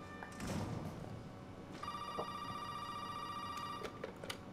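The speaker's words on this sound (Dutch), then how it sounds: "Oh, telefoon." A telephone rings in the horror video game Resident Evil 7, a sustained electronic ring tone starting partway in and holding steadily, with faint thuds and ambient game noise around it.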